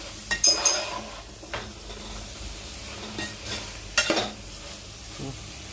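Masala mixture for meal maker biryani being stirred in a pot, with a few distinct scraping and clanking strokes of a ladle against metal over a faint sizzle, close by, no voices.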